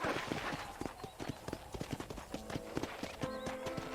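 Rapid clip-clop of horse hooves galloping close by in the video game Red Dead Redemption, a quick steady rhythm, with a brief horse whinny partway through.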